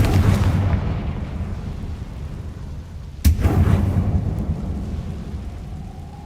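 A Confringo blasting-spell explosion in the video game Hogwarts Legacy lands as a sudden sharp boom midway, followed by a rumbling roar that fades over a continuous low background drone.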